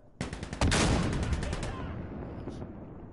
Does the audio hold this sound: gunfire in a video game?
yes